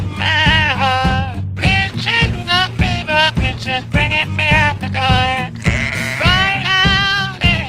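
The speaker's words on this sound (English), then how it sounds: "This is like sheeps all put together to like make a song out of it." An AI-generated song built from sheep bleats layers continuous pitched, wavering bleats into a melody over a steady low rhythmic backing, loud and dense throughout with no talking.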